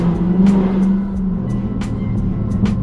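A Dodge Charger Daytona 392 picking up speed, its engine a steady low drone heard from inside the car with faint ticks and rustles over it, no one talking.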